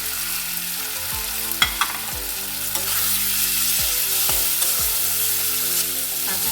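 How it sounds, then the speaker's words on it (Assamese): Ground cumin, garam masala, salt and turmeric fry in a pan with a steady close sizzle, broken by repeated scraping knocks of a spatula stirring the spices. "5 মিনিটমানৰ কাৰণে এনেকৈ ভাজি আছোঁ"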